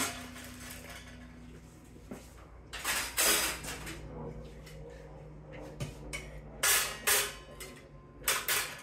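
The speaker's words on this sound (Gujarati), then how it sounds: "કેટલા વાસણ મારા ઓવનમાં સમાઈ ગયા છે એ જોવો તમે." Metal utensils, baking trays, a cake pan and a mortar and pestle clattering as they are pulled out of a home oven, with bursts of loud clanking and rattling separated by quieter pauses.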